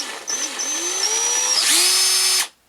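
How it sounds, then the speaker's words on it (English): A Forstner bit bores into a model part, a steady high power-drill whine that rises in pitch as the motor spins up, loud and close, then stops abruptly after about two and a half seconds. "We've got the funky Forstner bit."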